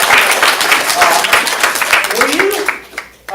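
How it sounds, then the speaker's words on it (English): Lively audience applause for the sound person at an improv comedy show. It is loud and close, with a voice talking over it, and it fades out near the end. "Amy Gray, let's give her applause."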